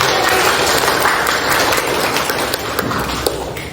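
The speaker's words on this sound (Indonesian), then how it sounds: "tepuk tangan dulu buat teman-teman" Classroom applause for classmates after a group presentation, a dense steady clatter of many hands clapping throughout, fairly loud and close.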